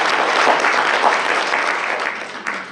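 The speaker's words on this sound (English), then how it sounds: "give yourselves a big round of applause" An audience at a talk breaks into a brief round of applause, a dense, even patter of many hands that stays near and fairly loud, easing slightly toward the end.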